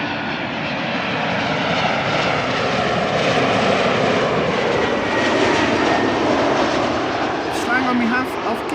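A German Airways airliner operating for KLM Cityhopper rolls past at Amsterdam Schiphol Airport, its engines giving a loud, steady broadband roar throughout, with a voice speaking briefly over it near the end.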